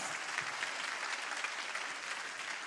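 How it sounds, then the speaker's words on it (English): Audience applause at a youth congressional debate, thick continuous clapping from a sizeable crowd that stays even and sustained throughout, with no talking over it. "Let's give all of our candidates a round of applause."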